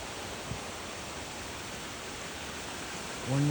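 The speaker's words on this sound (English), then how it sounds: "That's the Roaring Fork Creek." Roaring Fork Creek in the Great Smoky Mountains rushes along beside the Roaring Fork Motor Trail, a steady, even wash of flowing water with no pauses, joined by a brief higher tone right at the end.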